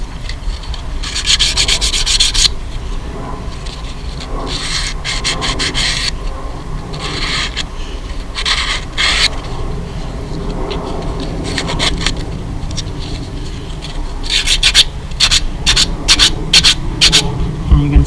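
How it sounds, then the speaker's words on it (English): Wooden skull-shaped book ends with splintering veneer are hand-sanded, giving steady abrasive rubbing strokes in repeated bursts, close and loud throughout with no talking. "sand like that. Sand like that. Just so you can run your hand over it without any"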